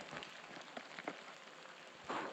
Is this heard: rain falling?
yes